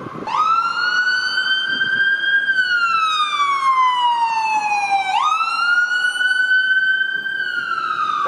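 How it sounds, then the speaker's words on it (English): Ambulance siren on King Street West in downtown Toronto, wailing up and down in long sweeping cycles, loud and continuous on the city street throughout. "there's an ambulance responding up ahead"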